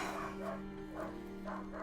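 A severely injured dog gives repeated short yelps and whimpers, about three evenly spaced cries over a steady low hum, close and fairly faint.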